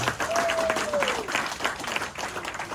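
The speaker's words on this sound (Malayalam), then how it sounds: "വെരി ഗുഡ്, ക്ലാപ്പ് അടിക്കും." An audience at a sales training session claps briefly, a short, moderately dense round of applause with a whistle-like tone in it and no talk.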